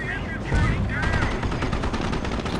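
Rapid machine gun fire and gunshots crackle through a battle in the mobile war game Company of Heroes, set at the Battle of the Scheldt, with a Sherman tank and infantry nearby. The bursts run loud and continuous while a voice talks over them.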